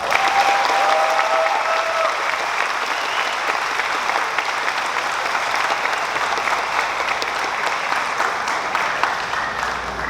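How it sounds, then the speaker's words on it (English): Graduation ceremony audience giving the class of 2026 honorees a round of applause, a loud, dense crowd clapping that holds steady for the whole stretch. "Please join me in giving all of our honorees a round of applause."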